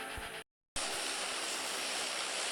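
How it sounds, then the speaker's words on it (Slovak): An airplane engine in the PUBG video game drones as a steady loud roar throughout, broken by a brief silent cut near the start. "Už sme v lietadle"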